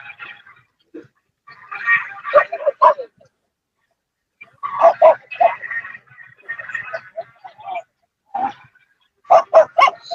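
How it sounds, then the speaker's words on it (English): A loose dog nearby at a classic car gathering gives bursts of barking and yips in two clusters, separated by a quiet gap, with voices murmuring faintly in the background. "Oh, somebody's got a dog loose over there."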